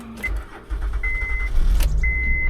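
A car engine cranks and catches after a jumpstart, a close rumbling start with a couple of short whining tones and a loud burst as it fires, then settles into running; no one speaks.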